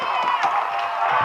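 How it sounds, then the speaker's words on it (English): Basketball crowd at Florida Gateway cheering after a basket, a dense, sustained roar of voices filling the whole moment, loud and close with no breaks. "Crowd goes crazy as Fausto Alvarez did what he did all game"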